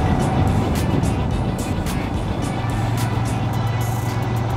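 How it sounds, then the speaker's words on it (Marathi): Vehicles rumble and pass on a congested mountain road between Shimla and Chitkul, where a landslide is being cleared; a steady loud engine drone with a low hum underneath and no talking. "Full on traffic traffic traffic traffic."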